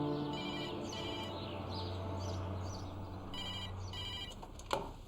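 A telephone rings in a quiet home, two clear trilling bursts of its bell over a low steady background hum, followed by a brief clunk as the handset is picked up.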